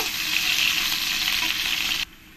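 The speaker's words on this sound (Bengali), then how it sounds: "তখন আমি এই পেঁয়াজ কাটাগুলো দিয়ে দেব দিয়ে পেঁয়াজগুলো ভালো করে আমি একটু লাল লাল করে ভেজে নেব" Chopped onions fry in hot oil in a pan for a dish of climbing perch (koi fish) cooked in oil, giving a loud, steady sizzle that cuts off abruptly near the end, with no talking.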